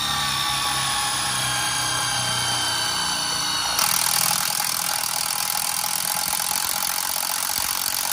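A power drill whirs steadily with a high-pitched motor whine, shifting to a rougher, louder grinding tone midway as it bites in while draining a boiler expansion tank, with no talking.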